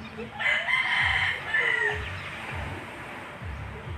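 A feisty breeding rooster crows loudly once, close by, then gives softer repeated clucks over a low background.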